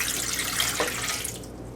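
Warm water runs steadily into a bread machine pan, one cup measured for homemade focaccia dough, a continuous close splashing pour that thins and fades near the end.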